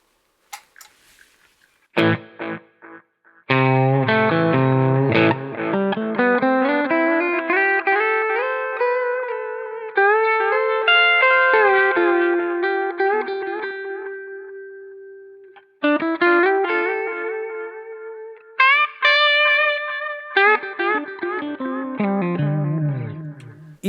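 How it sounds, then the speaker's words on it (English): Electric guitar played through a Delay Llama delay pedal: picked notes and chords ring out with repeating, gradually darkening echoes that trail off between phrases, loud and alone with no talking. "This is a Delay Llama. It's a very, very good sounding delay."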